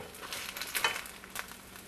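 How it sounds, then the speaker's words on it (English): Pot stickers pan frying without oil in a non-stick pan, a steady close crackling sizzle with small pops and faint scraping, alone without talking. "Fry, just pan fry. Use non-stick pan and no oil."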